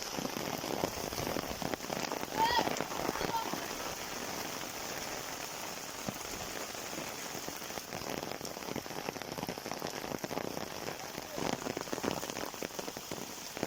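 Steady rain falls on surfaces in a wet field where water lilies are being gathered, a continuous soft patter with scattered drops, fairly faint and even throughout.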